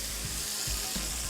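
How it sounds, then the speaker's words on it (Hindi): Hot tadka of red chilies tempered in oil sizzles loudly as it is poured into mutton chole paye (chickpeas with trotters), a steady, dense, close frying hiss that runs throughout with no talking. "अब ये गया तड़का"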